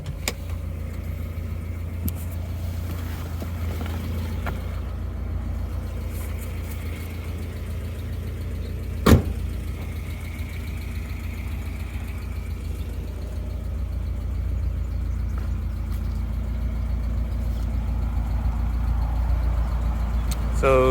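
A 1994 Mazda Miata engine idles with a low steady rumble throughout, one sharp click partway through, and no clear talking.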